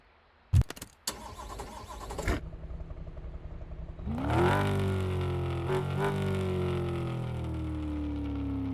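A car engine in Car Mechanic Simulator 2026 cranks and catches after a few clanks and clicks, then settles into a loud, steady idle that hums on with a slight rising whine.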